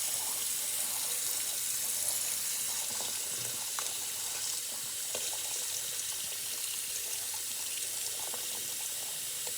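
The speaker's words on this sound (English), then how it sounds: "So I'm going to be turning on the hot water" A faucet runs steadily with hot water, splashing into a sink in a continuous hiss with small drips and clatters, no voices.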